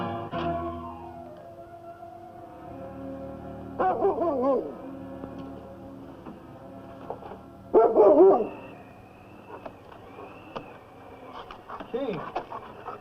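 A large sled dog in a radio drama set on the Yukon trail barks in two loud bursts, separated by a stretch of quieter sound, with a voice heard as well.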